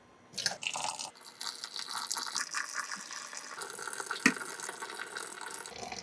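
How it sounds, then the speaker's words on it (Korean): Water is sprinkled little by little over dish detergent in a kitchen sink, making close, uneven trickling and splashing with a few sharp drips and no talking. "여기 위에다가 물을 조금씩 뿌려줄게요."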